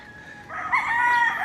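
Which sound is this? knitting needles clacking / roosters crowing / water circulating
roosters crowing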